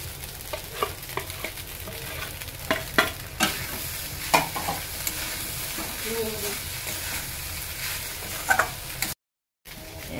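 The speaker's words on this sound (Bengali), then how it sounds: "যেগুলো ভেজে রেখেছিলাম, তো সেগুলো একে একে এর মধ্যে কিন্তু মিশিয়ে দিচ্ছি" Fried ingredients are stirred one by one into chire polao (flattened rice poha) in a pan, with steady scraping of the spatula, a light sizzle and scattered clicks of utensil against metal.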